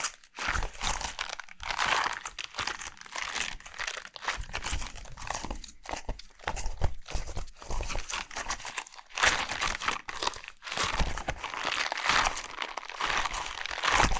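Close-up crinkly, crunchy squishing of a red silicone hot plate, in repeated bursts of handling with brief pauses between.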